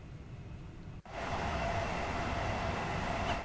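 A Gatwick Express train in Train Sim World 3, heard from outside, rumbles steadily at close range. A sharp click cuts in near the start, and the train then runs on as a broad, even roar with a faint tonal whine.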